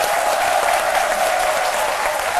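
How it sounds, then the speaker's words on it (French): A studio audience applauds a dance troupe's African choreography on a midday TV show, with dense, steady clapping that stays loud and even throughout, with no voices over it. "c'est bien sûr l'œuvre de Lou Selou Blagoné qu'on applaudit très fort"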